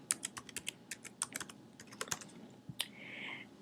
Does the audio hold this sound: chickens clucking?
no